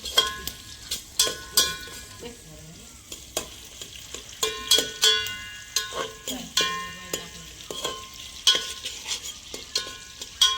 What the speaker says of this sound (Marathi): छानपैकी कांदा फ्राय होत आहे.